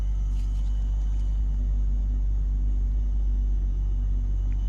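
A 2000 BMW 328Ci engine runs at a steady, slightly rough idle, a continuous low rumble heard close up with no talking.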